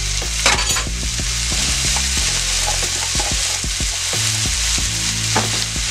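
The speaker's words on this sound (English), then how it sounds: "I'm gonna put in a nice healthy tablespoon of minced garlic here" Minced garlic sizzles in a frying pan, a steady, close hiss of frying with light taps and scrapes of a utensil stirring through it, with no voices.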